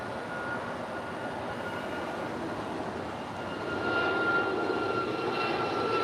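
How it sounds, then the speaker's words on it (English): Hawaiian Airlines Airbus A330 departing LAX on a south-side runway, a steady broad jet engine roar that swells louder in the last couple of seconds, heard at a distance with no talk. "A rare Southside departure for Hawaiian A330 heading to Kahului."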